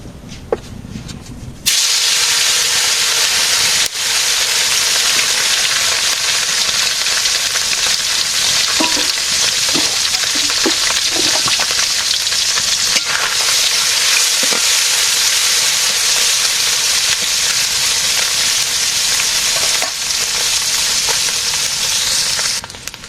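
Vegetable bhaji sizzles loudly in a pan, a steady broadband frying hiss that starts after a brief quiet moment and runs throughout, with occasional scrapes and clinks of stirring.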